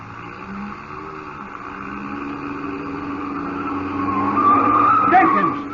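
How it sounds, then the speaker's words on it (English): A car's tires squeal and skid as it swings hard around a corner in an old radio drama, the engine rumbling steadily beneath and the screech rising near the end. "You turn that corner on 2 wheels."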